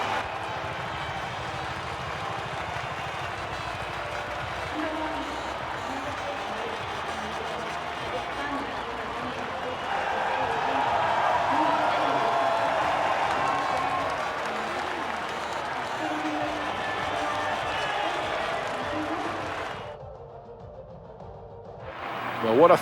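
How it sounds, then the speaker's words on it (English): A stadium crowd cheers and applauds at the podium after the Brazilian Grand Prix in the F1 23 racing game, a steady broad roar swelling midway and dropping away near the end, with a voice talking over it. "they thoroughly deserve the cheers of the crowd here today"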